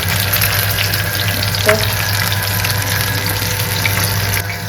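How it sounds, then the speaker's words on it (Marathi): Fish shallow-frying in an iron kadhai, a loud steady close-up sizzle with constant bubbling hiss and a faint low hum underneath, no speech. "झालेला आहे फिश फ्राय बघू शकता मस्त तो पण झाला आहे"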